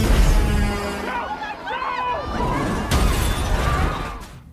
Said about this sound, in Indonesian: Andrew menghancurkan kaca gedung dan mengambil semua kamera yang merekamnya.